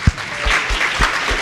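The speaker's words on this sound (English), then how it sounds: "give a round of applause to the wonderful people who put this together" An audience applauds at a Chattanooga event, a brief, loud burst of clapping with no voices over it.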